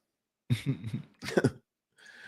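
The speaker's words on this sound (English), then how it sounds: "Excuse me, I'm just trying to clear my throat." Two bursts of throat clearing, close and fairly loud, followed by a short faint rasp after a pause.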